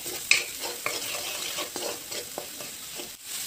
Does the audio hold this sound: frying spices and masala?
yes